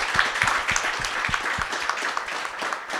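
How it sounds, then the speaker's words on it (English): A conference crowd at a pharmaceutical CEO breakfast applauds steadily, dense clapping filling the space for the full few seconds, with a few louder claps standing out near the start. "Give them one more round of applause, please"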